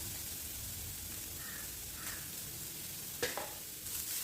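Carrot and grated coconut sauté quietly in a pan, a faint, even sizzle with a couple of brief stirring scrapes near the end.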